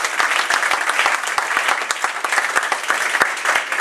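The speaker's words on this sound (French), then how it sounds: "On applaudit le Seigneur" A church congregation claps together, with rhythmic, evenly spaced hand claps over a dense wash of applause, loud and close.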